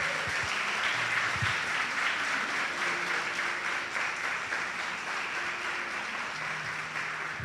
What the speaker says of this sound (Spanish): Dele un aplauso al Señor por eso.